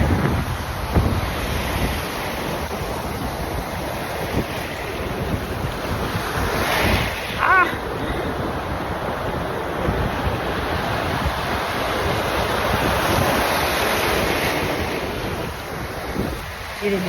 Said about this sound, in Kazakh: Қазір қараңыз, толқынды көрсетейін.